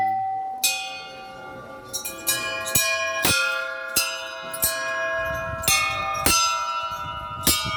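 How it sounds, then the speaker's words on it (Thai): A Thai temple bell is struck about a dozen times in an uneven rhythm, each clang ringing on and overlapping the next, close and loud. "ผมจะเคาะระฆังนะค"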